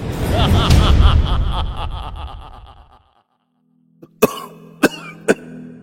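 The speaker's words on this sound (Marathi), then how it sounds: "खोकला वाढतच चाललाय" An elderly man coughing during a live stage performance: a long breathy rasp at first, then a pause and several sharp, separate coughs close by.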